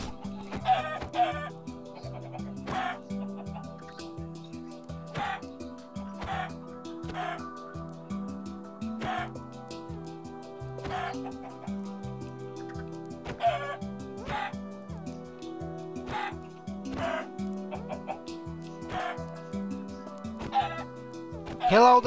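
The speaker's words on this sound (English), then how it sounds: "I can one hit the chickens." Minecraft chickens in creative mode clucking over and over, close and fairly clear, with short pecking bursts scattered irregularly through about twenty seconds.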